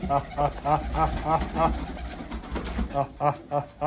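Pigeons being fed grain coo in rhythmic, throaty bursts close by, with a run of repeated calls, a short pause, then more cooing, all under a low background rumble.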